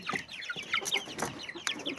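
Chickens, including broiler hens and Zagorsk salmon roosters, clucking and chirping close by, several overlapping calls in quick succession with a busy, irregular rhythm.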